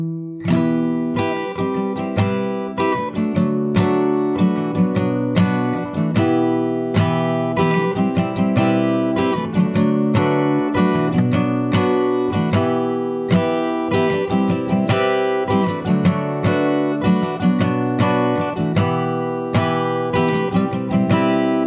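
An acoustic guitar plays a song fingerstyle from start to finish, rhythmic strummed and picked chords ringing steadily and loud, alone without voice.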